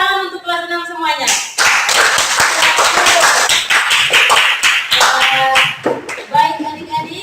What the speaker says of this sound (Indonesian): Tepuk tangan untuk kelas 6 semuanya.